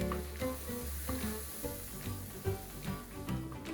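Syrup is poured into a pan of semolina halva and sizzles with a steady hiss, while soft stirring taps and scrapes recur throughout.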